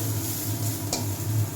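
Onion frying in a pan, a continuous soft sizzle under a low hum, with one brief scrape of stirring near the middle, close and alone without voices.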